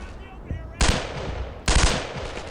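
Rapid-fire machine gun from Brothers in Arms: Earned in Blood, heard as two loud, close bursts of fast rattling shots separated by a short pause, with quieter in-game noise between them.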